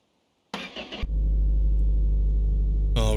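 A front-wheel-drive Lada Niva engine cranks briefly, catches and settles into a loud, steady idle with its exhaust fitted, a low continuous rumble close by, with a sharper rev or whine near the end.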